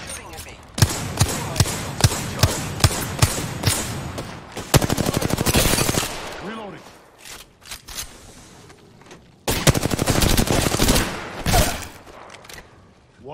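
Enemy gunfire in a shooter video game: rapid bursts of automatic shots in quick rhythmic runs, loud and close, broken by short gaps, with a player talking in between.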